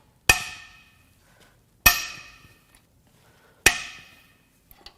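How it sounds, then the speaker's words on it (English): Cylinder head bolts on a blown Mazda Skyactiv-G 2.5 engine from a CX-30 being broken loose with a T55 bit: three sharp, loud cracks spaced evenly apart, each ringing out briefly, with quiet between them. "Now it's time to crack these head bolts loose"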